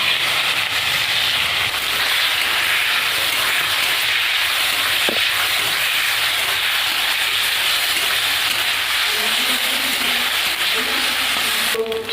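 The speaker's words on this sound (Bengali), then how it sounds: "এবার মাছগুলো ভেজে নেব।" Fish fries in oil in a kadai, giving a constant loud hiss and crackle that carries on unbroken for the whole stretch, with no talk over it.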